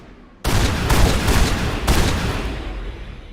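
Weapon fire in the video game Mass Effect Legendary Edition erupts abruptly as a loud, dense sustained burst of gunfire, with a second surge partway through, no talk over it.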